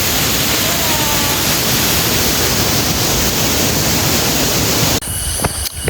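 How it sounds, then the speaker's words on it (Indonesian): Curug Ciomas waterfall in Indonesia, a steady loud broadband rush of falling water filling the scene without pause, briefly cut by a quieter stretch near the end. "kita udah sampai di air terjun Curug Ciomas"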